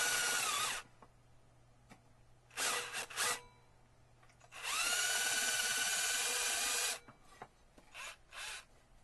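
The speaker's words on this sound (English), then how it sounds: "we're going to drill the flanges off the pop rivets, 4 of them, using about a 1/4 inch diameter drill" A power drill with a quarter-inch bit whines in several bursts, two short ones and then a long steady run, with brief grinding as it bites through the flanges of metal pop rivets on a flue damper.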